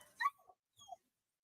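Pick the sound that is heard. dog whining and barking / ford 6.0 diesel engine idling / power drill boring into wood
dog whining and barking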